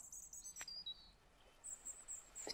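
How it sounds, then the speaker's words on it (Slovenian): Birds sing faintly outdoors, with thin high chirps and short warbled phrases over a quiet background hiss. "Ptičje petje boža mojo dušo."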